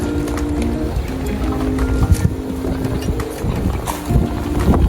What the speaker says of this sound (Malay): Kuat yo angin.